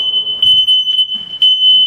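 A smoke detector under test gives a loud, piercing, continuous high-pitched alarm tone, close by and alone, with faint rustling beneath it.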